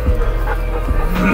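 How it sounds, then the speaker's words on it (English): A farm dog lets out a few quick, close barks and yips in a loud, brief burst. "Such a naughty dog."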